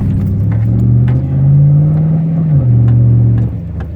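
A 1999 Camaro Z28 convertible with an LS1 V8 and SLP Loudmouth exhaust pulls out, its deep exhaust note rising as it accelerates, easing, then rising again before dropping off, close and loud with no voices.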